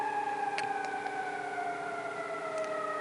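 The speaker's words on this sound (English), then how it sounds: "Now I know how Dan is not on fire feels about ambulances while he's filming." An ambulance siren wails steadily outside, a sustained tonal drone holding at moderate loudness with faint clicks over it and no voices.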